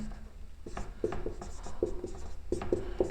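Chalk or marker strokes on a board during a physics lesson, a run of short scratchy taps and squeaks at close range, heard alone without talk.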